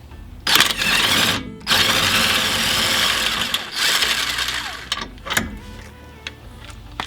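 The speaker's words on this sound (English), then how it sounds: "now it's time to remove the 17mm strut bolt." A power tool, likely an impact wrench or ratchet, works the 17mm strut bolt on a Subaru BRZ / Scion FR-S / Toyota 86 suspension during a coilover install, with several loud close bursts of whirring separated by clicks and metallic clanks.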